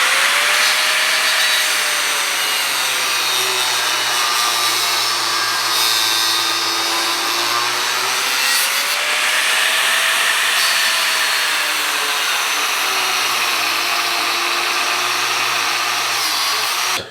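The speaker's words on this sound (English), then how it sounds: "I'm going to start off with a cutting wheel and cut a lot of this mushroom off." A cutting wheel grinds mushroomed steel off the head of a vintage blacksmith hot cut, a loud, steady, close-up high-pitched whine with a slowly wavering pitch that runs the whole time.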